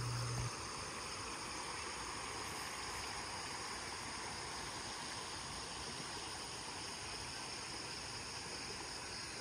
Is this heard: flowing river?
yes